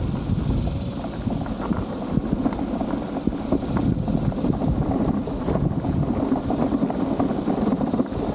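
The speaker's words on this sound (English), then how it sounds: "There is some road noise." Steady road traffic noise drifts across a flat park campground beside a golf course in Gonzales, Texas, forming a continuous low rumble with wind-like hiss and no clear individual vehicles.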